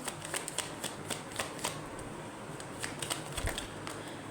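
Tarot cards are shuffled by hand, a dense papery riffle with repeated sharp flicks and snaps of cards being drawn, close and fairly quiet, with no talking.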